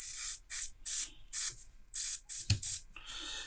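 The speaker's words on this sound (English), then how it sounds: "I might give it a little spray of WD-40 as well." Repeated short hissing bursts of WD-40 aerosol spray on a Makita DTD153Z 18V impact driver being repaired, about eight quick squirts in an uneven rhythm, close up with a small knock partway through.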